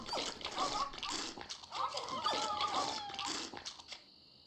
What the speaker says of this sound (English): So we are going to give the meat to the piranha poodles.